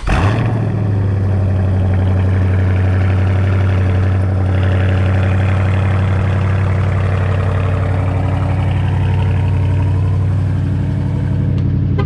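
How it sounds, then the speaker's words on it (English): A Dodge Charger or Challenger with a mid-muffler exhaust idles loudly on a cold start, a steady deep rumble that holds close and constant throughout with no talking. "You can wait until that louder cold start exhaust comes down"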